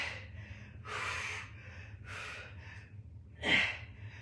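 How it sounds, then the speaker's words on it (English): A person doing a controlled single-leg fly exercise breathes in long, audible breaths, several slow gusts of air followed by one sharper exhale near the end, close to the mic and without talk. "breathe out."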